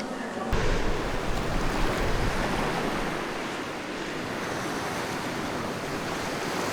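Sea waves wash onto Tapdong beach beside Jeju harbour, a dense continuous roar of surf with wind buffeting the microphone, loud from the start and holding steady throughout.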